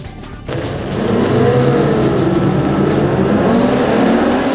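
Suzuki racing motorcycle recorded by an onboard camera during race practice, a steady loud engine roar that rises after a brief quieter opening and holds with shifting pitch and wind rush throughout.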